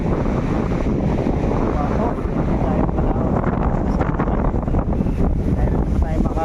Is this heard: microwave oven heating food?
no